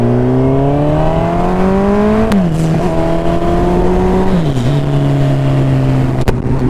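A turbocharged Suzuki Hayabusa motorcycle engine pulls hard and close, its rising whine climbing through two gear shifts with brief dips in pitch, staying loud and continuous throughout.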